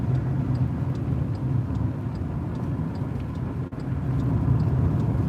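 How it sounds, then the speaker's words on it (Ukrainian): A car engine drones steadily from inside the cabin during a driving test route, with a brief dip in the sound as the driver shifts into third gear, then the hum resumes. "І вмикаємо третю передачу."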